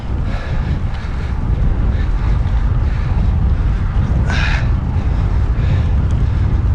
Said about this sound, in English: It's cold as well, you're coming into the wind.